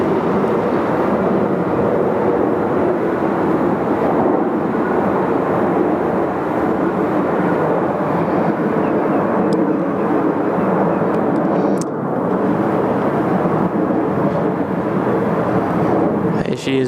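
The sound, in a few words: Boeing 747-8 flying overhead at Sydney Airport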